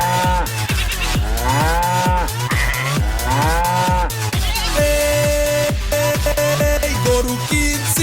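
Cattle moo loudly and repeatedly at a busy livestock market, with deep drawn-out lowing calls coming one after another throughout.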